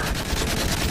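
Dense, continuous automatic gunfire from a Battlefield 3 or Modern Warfare 3 combat game, loud rapid bursts packed together across under a second with no pauses.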